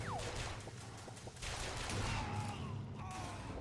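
Rapid gunfire from a video game gun, several sharp shots in quick bursts over a dense, busy game soundscape, fairly loud and continuous.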